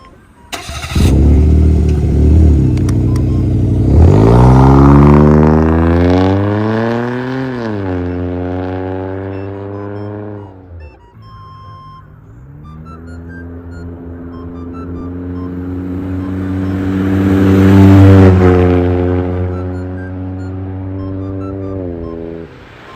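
A Suzuki Wagon R (MH21S/MH22S) with a loud aftermarket muffler fires up and revs through a raspy exhaust, pitch rising and falling as it accelerates, shifts, and pulls away nearby.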